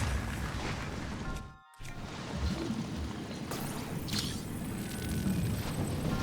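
Bomb explosions in Zelda: Breath of the Wild, a dense rumbling blast sequence that briefly drops out to silence before booming noise resumes, with a sharp burst around four seconds.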